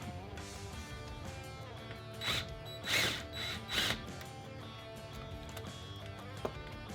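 Socket ratchet loosening a bolt on a Ford Raptor's aFe Stage 2 cold air intake, a few quick clicking ratchet strokes in short bursts up close over a constant mechanical hum.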